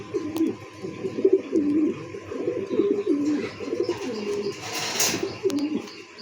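Pigeons in a breeding cage, among them a paired cock and hen and a white racer pair, coo in repeated soft rolling phrases close by. A faint rustle and a brief flutter break in near the end.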